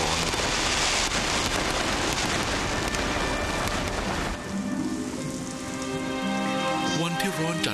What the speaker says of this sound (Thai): ฝนหน้าร้อนที่รอมานานตกลงมาฝนเม็ดหนาทำให้พื้นดินที่แห้งผากสดชื่น